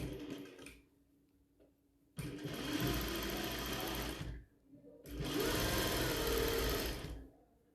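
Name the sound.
sewing machine stitching fabric scrunchie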